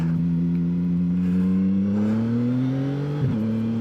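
A 675NK motorcycle accelerating hard through its gears in a 0 to 100 run, engine pitch climbing steadily with a quick shift near the end, loud and close with no talk.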